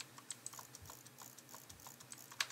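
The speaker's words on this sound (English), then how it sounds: "I'm getting 27 CPS very easily with butterfly clicking" Rapid butterfly clicking on a computer mouse, a quick irregular stream of light, close plastic clicks, quiet and steady with one sharper click near the end.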